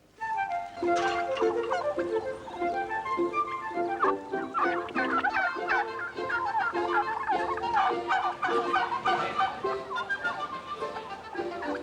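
Turkeys on a farm gobble repeatedly in loud, rapid rattling bursts, several birds calling over one another in a continuous chorus.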